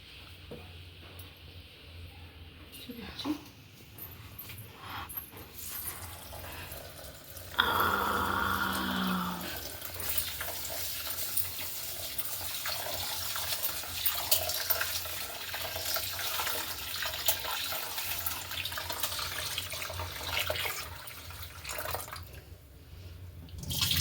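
Ragi finger millet grains are being washed in water, with a steady running, sloshing and swishing wash lasting many seconds, fairly close and moderately loud, with no talk.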